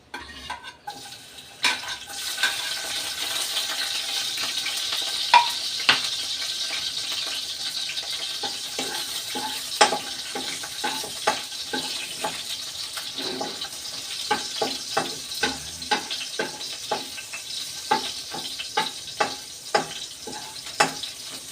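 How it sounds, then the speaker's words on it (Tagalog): Garlic is sautéed in a pan for chicken chop suey, with a low frying hiss and many quick clacking stirs and scrapes of a spatula against the pan, irregular and close, with no voices. "ang una po natin gagawin ay ilalagay po natin itong ating bawang"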